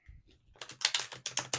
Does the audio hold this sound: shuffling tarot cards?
yes